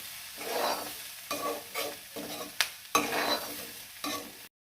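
Cooked clams and chopped tomato stir-fried in a pan for Kerala-style clam thoran, with close sizzling and a few bursts of scraping as the mixture is tossed, ending abruptly.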